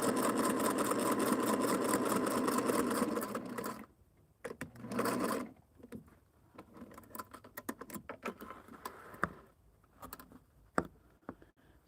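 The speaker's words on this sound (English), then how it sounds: "So this is really kind of mindless sewing." A sewing machine stitches a Halloween hexies table topper, running steadily and loudly for several seconds before stopping, then faint handling clicks and short bursts of stitching follow.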